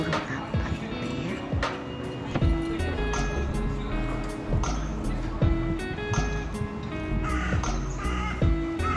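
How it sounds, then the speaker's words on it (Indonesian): Crows cawing outdoors in Edinburgh, several harsh calls repeating at irregular intervals over a busy background of wind and city noise, fairly near and clear. "Itu ada bunyi burung ya, entah burung apa itu ya."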